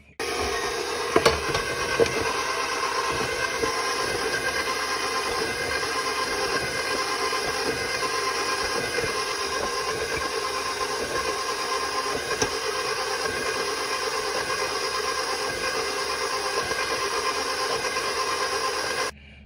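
A mixer runs steadily through bread batter with oil just added, a constant humming, whirring drone with faint rubbing texture that holds at an even level for about twenty seconds, close by and with no talking.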